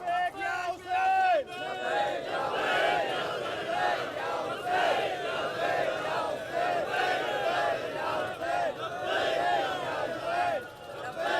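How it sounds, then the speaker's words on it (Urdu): A large religious gathering chanting slogans together, a dense roaring crowd with rising and falling shouted cries that repeat across the whole span, loud and continuous. "یہ نعرے ادھورے نعرے ہیں، پورا مجمع نہیں پکار رہا."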